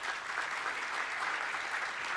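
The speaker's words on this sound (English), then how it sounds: "So can I have a big round of applause for them, please?" At a charity annual dinner and awards event, the hall gives a team a sustained round of applause: dense, even clapping that sounds fairly faint and distant, with no talking over it.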